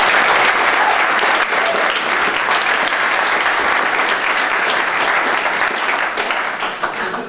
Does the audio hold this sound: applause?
yes